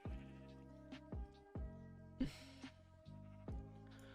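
Sheep in the Minecraft video game bleat in a quick series of short, clear, faint calls spaced through the stretch, with no talking over them.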